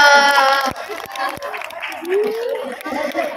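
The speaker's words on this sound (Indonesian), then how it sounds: "Tepuk tangan dulu dong." A group applauds with scattered claps and cheerful crowd chatter at a school literacy event for Youth Pledge Day, the clapping mixed with voices and sharp hand claps standing out.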